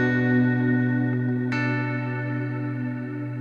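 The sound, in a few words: guitar through BOSS GT1000 Strymon Cloud-style reverb patch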